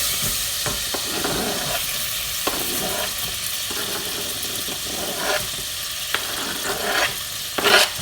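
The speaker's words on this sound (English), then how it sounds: "We're going to add the onion in." Onion frying in a pan for French onion soup, a loud close sizzle with intermittent stirring scrapes and clatter, growing busier toward the end, no talking.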